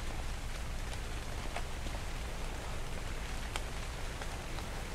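Rain in the video game ARK Survival Evolved: a dense, steady hiss of rainfall with scattered faint droplet ticks, constant in loudness and heard alone without talk.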